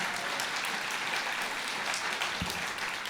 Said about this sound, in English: can we have a big round of applause for Amber Rudd